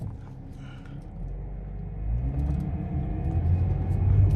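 A Chrysler 300 on the road, its engine running steadily with a low, continuous rumble that swells louder as the car picks up speed partway through.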